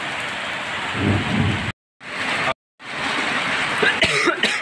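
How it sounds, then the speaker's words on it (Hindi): Heavy rain pours outside during a lightning storm, a dense steady roar with low rumbles, broken by two brief total dropouts in the sound. "बाहर बारिश हो रही है बहुत तेज़ बिजली चमक रही है"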